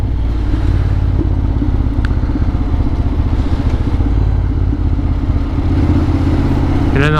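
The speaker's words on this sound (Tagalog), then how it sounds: "Ito yung special edition nila ng 2023 Honda XADV color white." A white special-edition 2023 Honda X-ADV 750 motorcycle idles with a steady, loud mid-pitched engine drone and some clatter, close by and running continuously.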